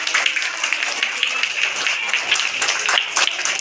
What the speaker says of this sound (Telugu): ఒకసారి గట్టిగా క్లాప్స్ కొట్టండి